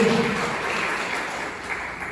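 Congregation applauding during a Portuguese-language deliverance church service, a steady, moderate wash of clapping with a faint voice in the background throughout.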